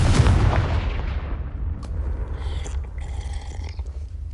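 A loud booming blast from the Confringo spell in a video game hits at once and then rumbles away in a long, fading low roar, with faint game effects flickering afterward.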